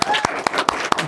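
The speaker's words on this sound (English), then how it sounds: "Big round of applause for Liz Sullivan, who made number 1." A few sharp hand claps in an even rhythm, about four per second, during a studio talk-show segment, with a voice speaking underneath.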